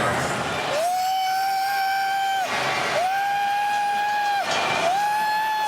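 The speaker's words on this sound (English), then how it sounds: "He's inciting the crowd. This place is going crazy." A packed stadium crowd roars at the 2004 NFC Championship Game between the Falcons and Eagles, with three long, loud horn-like blasts rising and holding over the steady crowd noise.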